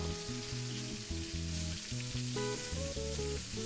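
Pot roast searing on all sides in a hot pan for a crust, giving a steady, even sizzle that runs the whole time beneath continuous background music.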